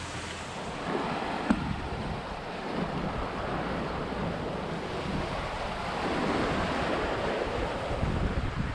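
A sailboat under spinnaker runs at night through waves and wind, with steady rushing water and wind noise on the microphone and no voices.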